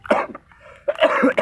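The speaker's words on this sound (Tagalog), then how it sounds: "So, inuubo pa tayo." A person coughs twice in quick succession at close range, with a short quiet gap between the sharp bursts.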